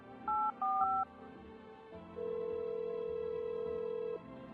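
Phone keypad tones in the game Show Me Your Teeth: two quick dual-pitched beeps and a third key press, then a brief pause and one long steady tone, clean and close with no voices.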